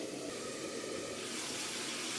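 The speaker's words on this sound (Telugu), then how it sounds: "కడిగేసుకొని మంచి వాటర్ పోసుకుని" Water runs in a continuous, even stream as clean water is poured into a cooking pot for chicken pulao, steady from start to finish.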